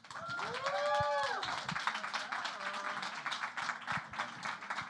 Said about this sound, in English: please, warm round of applause for Major